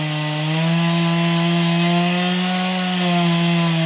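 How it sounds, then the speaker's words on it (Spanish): Saws cutting through equipment while a clandestine synthetic drug lab is destroyed, making a loud, steady droning whine with a strong hum that holds without pause for the whole stretch. "El lugar fue destruido con sierras"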